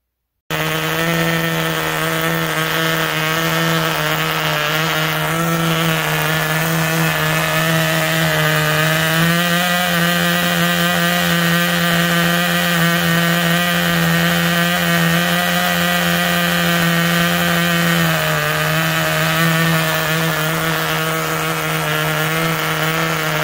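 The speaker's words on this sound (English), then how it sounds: "This thing has some kind of major defect and it just will not rev up." A Norvel Big Mig 0.061 small engine drones steadily and loudly for the whole stretch, holding one buzzing pitch with a slight shift midway but never revving up, a defective motor stuck at a flat whine.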